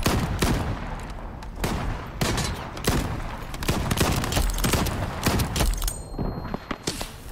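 Rapid revolver gunfire in the free-to-play shooter Shatterline's PVE Expedition mode: a dense run of loud, sharp shots close together, with a few heavier thuds mixed in and no talking.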